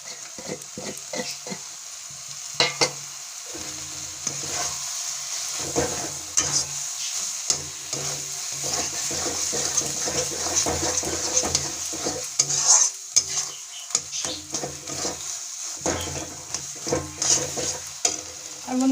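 A spatula scrapes and stirs pav bhaji masala in a frying pan, with repeated clattering strokes against the metal over a steady sizzle of frying, lasting throughout with no talk.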